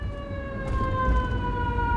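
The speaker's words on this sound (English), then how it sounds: "3-4 fire trucks. We got ambulances." Fire truck and ambulance sirens in Seattle wail in a loud, sustained, slowly sliding tone close by, with a rumble of traffic underneath and a brief burst of noise partway through.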